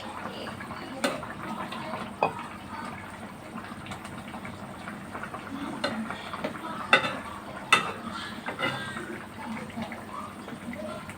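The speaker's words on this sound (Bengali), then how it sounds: "ঢাকনা দিয়ে ঢেকে চুলার আঁচ মাঝারি রেখে কিছুক্ষণ ফুটিয়ে নিব।" Snakehead fish curry with potato and tomato simmers in a covered pot over medium heat on a stove, giving a steady soft bubbling and sizzle broken by a few light clinks and clatters.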